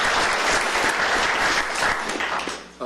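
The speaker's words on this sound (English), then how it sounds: "let's go ahead and give them a round of applause" A round of applause at a commissioners court meeting: dense, steady clapping from a room of people, loud and continuous before cutting off abruptly near the end.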